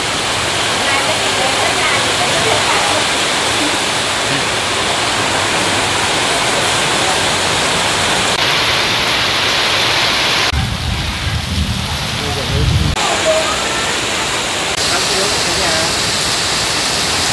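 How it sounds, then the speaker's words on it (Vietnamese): Heavy rain pours down in a steady, loud, dense hiss that fills the whole clip, with a rumbling surge partway through. "Bữa nay trời mưa quá cả nhà ơi, mưa quá ồn quá trời."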